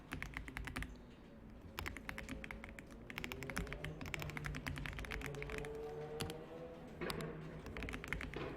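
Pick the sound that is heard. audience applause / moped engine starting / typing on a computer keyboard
typing on a computer keyboard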